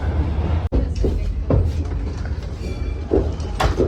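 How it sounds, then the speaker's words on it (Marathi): A crowded passenger train in Vietnam rolls along with a steady loud rumble from inside the carriage, a few knocks and clatters rising over the continuous noise. "ही यांची ट्रेन बघा"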